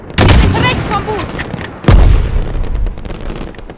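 Gunfire in the Call of Duty Modern Warfare video game, two heavy booming shots about two seconds apart with rumbling echoes and a dense battle din underneath, mixed with shouting voices.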